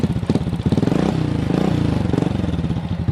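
A motorcycle started with the kick starter fires up at once and settles into a loud, close, rapid idling putter with a slight rise in revs midway, running alone with no talk.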